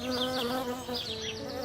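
Cartoon bee buzzing steadily and close for the whole moment, a continuous droning hum with wavering pitch and no speech over it.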